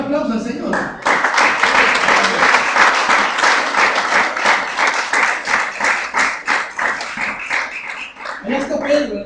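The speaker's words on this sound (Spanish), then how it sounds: "Denle un aplauso al Señor." A church congregation bursts into loud, sustained applause that runs for about eight seconds, with rhythmic clapping and voices mixed in, fading at the end as a preacher's voice returns.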